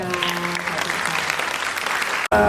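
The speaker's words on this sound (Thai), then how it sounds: "ขอเสียงปรบมืออีกครั้งหนึ่งครับ" An audience at a press conference for a singing competition show gives steady, dense applause. Broadband clapping fills the room, a faint voice sounds underneath, and the clapping cuts off briefly just before the end.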